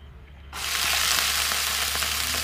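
Chopped capsicum and other vegetables for mixed fried rice hit a hot pan with a sudden loud sizzle after a quiet moment, then keep frying in a steady, bright crackle with occasional stirring clicks.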